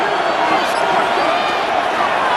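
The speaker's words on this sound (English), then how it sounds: "This crowd into it now as we get to 3rd down." A loud, steady roar from a stadium crowd cheering ahead of a third-down play in Madden NFL 26, Chargers versus Panthers, fills the whole stretch with dense, sustained noise.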